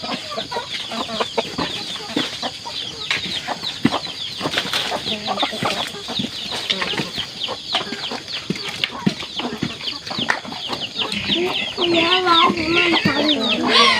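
A flock of farmyard chickens clucks busily and flaps about at the 6 a.m. feeding on a rural Isan farm, near and lively, with a person speaking now and then.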